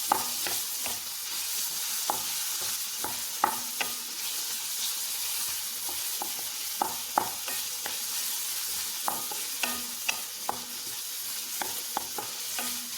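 Eggs fry in a pan for a Kerala-style dish with onion, giving a steady close sizzle throughout, broken by frequent sharp taps and scrapes of stirring with no talking.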